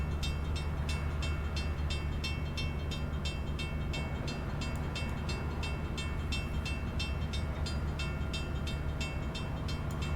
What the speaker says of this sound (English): Oh, we're probably waiting for this train.